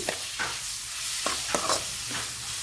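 Bitter gourd with garlic paste fries quietly in a pan, a soft steady sizzle broken by several sharp scrapes and clinks as a spoon stirs it, with no voices.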